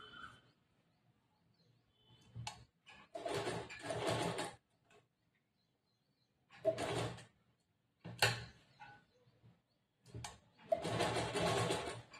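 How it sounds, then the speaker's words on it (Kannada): A sewing machine stitches the back neck of a blouse lining in short bursts of rapid whirring, stopping and starting several times with quiet gaps between, close by and with no talk. "ಈ ತರ ನಾನು ಹೆಂಗ್ ಸ್ವಲ್ಪ ಸ್ವಲ್ಪನೇ ಸ್ಟಿಚ್ ಮಾಡ್ತಾ ಇದ್ದೀನಿ"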